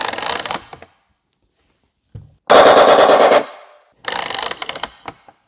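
Mattel M-16 Marauder pull-action toy gun firing: loud, close bursts of rapid ratcheting rattle, a short burst, then a longer one of about a second, then another burst, separated by silence.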